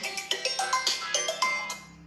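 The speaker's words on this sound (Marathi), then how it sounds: "मम्मीचा फोन आहे" A mobile phone ringtone plays a bright, repeating melodic tune of short, evenly spaced tones, close and clear with no talking over it.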